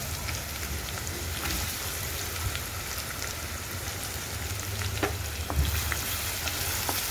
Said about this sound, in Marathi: त्यानंतर कांदा टाकून घ्यायचा आहे.